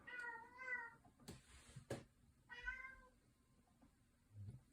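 A house cat meows twice in the background, faint and somewhat distant, each call a drawn-out wavering cry separated by a few quiet seconds and light rustling.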